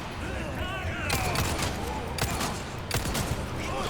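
Rapid bursts of gunfire from the video game Resident Evil 4, loud and dense over game noise, with a voice talking over the shots.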